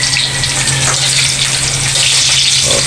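Eggplant and okra fry in a pan of oil for breakfast, giving a loud, steady sizzle with bright crackling, close up and without talk.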